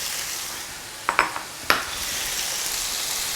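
Diced tomato drops into a hot wok of minced pork stir-fry, giving a steady sizzle with a couple of sharp clinks of the utensil against the pan.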